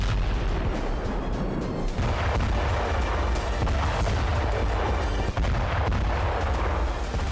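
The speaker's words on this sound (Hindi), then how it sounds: "इजराइल की बमबारी तो गाजा में जारी है" Israeli bombardment in Gaza fills the scene with dense, continuous loud rumbling and booming of explosions and heavy fire. Sharp blasts punch through a constant low roar, and nobody speaks.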